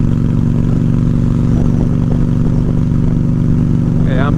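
A Honda Shadow ACE 750 motorcycle picking up speed on a ride, its engine droning loud and steady from close range with heavy wind buffeting, and a rider's voice briefly heard over it.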